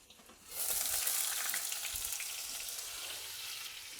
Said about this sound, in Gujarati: પેસ્ટ ઉમેરી અને ઢાંકણ ઢાંકી દઈશું, જેથી વઘાર બિલકુલ બહાર ના ઉડે